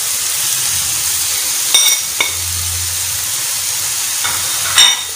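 Minced keema sizzles steadily on a hot tawa as spices go in, a constant bright frying hiss broken by a few sharp clinks of a utensil against the pan.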